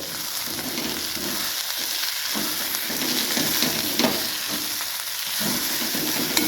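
Fenugreek (methi) leaves fry in hot oil while being stirred, giving a steady close sizzle and hiss broken by soft scraping stirs, with no voices.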